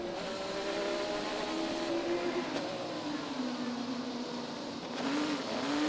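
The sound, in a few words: IndyCar race car onboard engine at Long Beach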